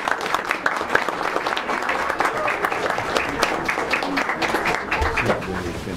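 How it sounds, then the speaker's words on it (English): Audience at a school board of education meeting applauding cheerleaders, a dense, sustained round of clapping from a crowd that fills the room throughout. "Let's give them a round of applause."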